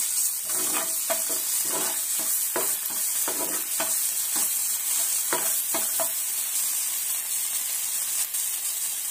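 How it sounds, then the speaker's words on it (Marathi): Pav bhaji vegetables and garam masala sizzle steadily in hot butter and a little oil on a tawa, a loud continuous hiss broken by scraping stirring strokes. "त्यावर आता थोडा आपण गरम मसाला घालून घेऊया भाजी पावचा आणि थोडं भाजी घालून घेऊया।"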